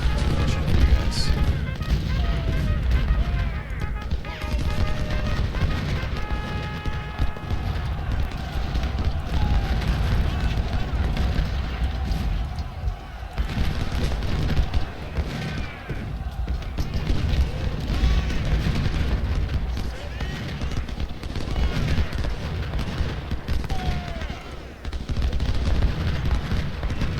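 Dense, continuous artillery booms and rifle volleys fill a Union-side Civil War battle near Richmond in Ultimate General: Civil War, a loud, unbroken barrage rumbling throughout, with occasional speech over it.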